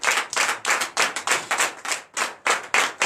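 A church congregation at a Sunday service in Benin claps loudly in rhythmic bursts, sharp close handclaps in regular waves with brief gaps between them, no talking.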